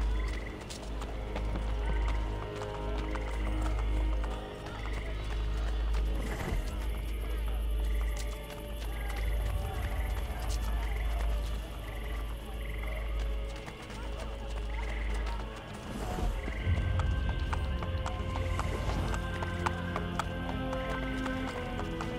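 Steady clip-clopping horse hooves in a rhythmic trot in Assassin's Creed Brotherhood, sitting under a constant bed of game music and ambient tones, with no break in the beat.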